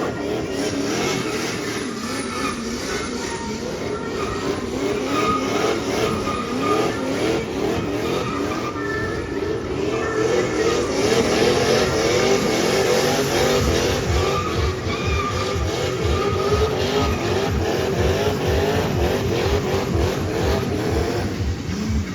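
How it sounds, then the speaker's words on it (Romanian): A BMW drift car with a V8 turbo engine at a Romanian drift championship event, roaring loudly and continuously with revving, tire screech and skidding throughout, the engine note rising and falling close by. "Claudiu Lăcătușu, pilot semi-pro BMW 46, un V8 Turbo"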